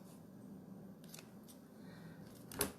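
Scissors trimming something, likely the ends of a small wrapped craft piece: a few faint snips, then one sharper, louder cut near the end over a quiet room hum.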